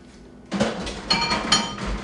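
Ground beef, onion and crisp-fried bacon being stirred in a crock pot: a run of scraping, clinking utensil-on-pot sounds starting after a quiet half second, close and fairly loud with several sharper knocks.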